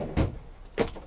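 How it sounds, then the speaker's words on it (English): An aluminum kitchen drawer in a campervan opens and shuts, giving two short, close knocking slides about half a second apart. "Moving into the kitchen, we got some pretty standard drawers up here."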